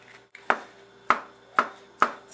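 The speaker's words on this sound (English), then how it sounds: "So I'm just going to chop this up." A knife chops through a soft, slightly overripe avocado on a board, four distinct close thuds spaced about half a second apart over a quiet background.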